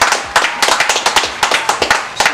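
A few people at a podcast taping clap for a guest, a dozen or so sharp, close hand claps in an uneven rhythm, with no talk over them.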